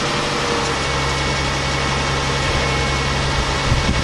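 A 2005 Toyota Sienna minivan idles after a cold start in freezing weather, its engine giving a steady, loud, continuous rumble with a whiny exhaust tone and no talk over it.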